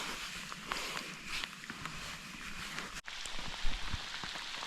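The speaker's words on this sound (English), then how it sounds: "it's full-blown raining right now" Steady rain falls on a trail at Mount Rainier National Park, a continuous close hiss with scattered drops and occasional footstep-like thuds, a brief dip near the middle, no talking.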